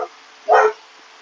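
A dog gives a single short, sharp bark, close and loud, in a quiet workshop at a knife-making bench, with no talk over it.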